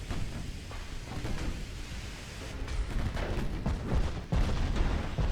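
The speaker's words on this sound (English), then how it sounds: "you still fired all your guns" Battleship guns firing from a US super battleship during a naval battle in Ultimate Admiral Dreadnoughts, heard as a dense rumbling roar with a few heavier booms breaking through near the end.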